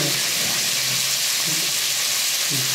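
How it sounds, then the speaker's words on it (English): Prawns pan-fry in hot oil with a continuous dense sizzle, loud and steady throughout with no pauses. "We're going to we're going to pan fry the prawns for about 2 to 3 minutes."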